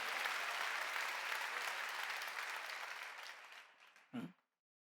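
A church congregation claps during a Wednesday worship service, dense steady applause that slowly fades, then one brief louder thump before silence.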